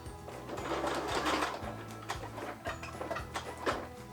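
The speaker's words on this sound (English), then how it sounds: "I'm going to pivot because I want to sew back across to the other side again" A sewing machine stitches a quilted patchwork bag in quick rhythmic mechanical bursts, with short pauses where the stitching stops and restarts. It is close and fairly quiet.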